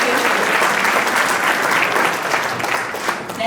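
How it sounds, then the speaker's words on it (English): Sustained round of audience clapping at a senior citizens' lobby event in the Colorado State Capitol, dense and even from a large room of people, easing slightly near the end. "Could we have another round of applause for all of our presenters?"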